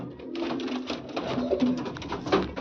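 Andhra pigeons, a female and a male, coo repeatedly in soft low rolling phrases close by, with a steady background hum and no speech.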